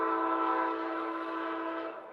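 A train horn blares loud and steady as the train passes, sounding continuously throughout before beginning to fade slightly at the end.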